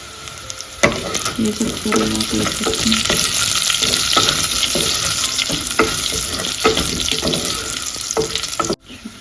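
Curry leaves and dried red chillies sizzle and crackle steadily in hot oil in a pan, with occasional stirring clatter, loud and close throughout before stopping abruptly near the end.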